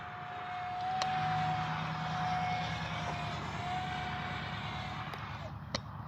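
A T-33 radio-controlled model jet with a 50mm fan, built by Arrows, flies past in a steady, continuous engine drone that swells slightly and then holds level outdoors.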